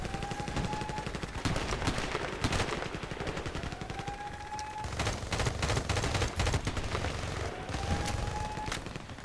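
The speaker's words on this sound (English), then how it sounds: "that's a suggested fire rate for this weapon, to kind of fire it in a little burst like that" An H&K 416 carbine fires in short controlled bursts in a shooter game, sharp rapid cracks in clusters of several shots separated by brief pauses, loud and close, with rising whistle-like tones between bursts.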